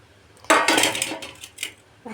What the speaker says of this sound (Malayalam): അപ്പോൾ അത് കക്ക ഇട്ട് കൊടുക്കണം കേട്ടോ.